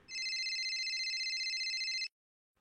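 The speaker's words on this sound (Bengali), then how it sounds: "এমনই সময় ফোন বেজে উঠল।" A phone rings as a sound effect in a romantic audio story: a bright electronic trill held steady for about two seconds, then cut off abruptly into silence, with no speech.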